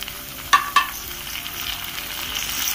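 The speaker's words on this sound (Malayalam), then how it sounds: "ഇതിലേക്ക് ഇനി തക്കാളി കട്ട് ചെയ്ത് ഇട്ട് കൊടുക്കാം" Chopped tomatoes hit sautéed onions in a pan for a beef pepper roast, giving a steady close sizzle with two sharp stirring clacks early on, then continuous frying crackle with no talk.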